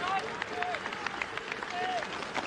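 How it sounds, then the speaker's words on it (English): A roadside crowd cheers and claps for a cyclist during a Tour Down Under stage, a steady distant roar of applause with a commentator talking over it. "Crowd cheering him all the way."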